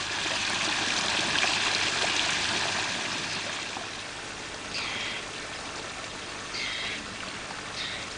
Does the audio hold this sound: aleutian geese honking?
no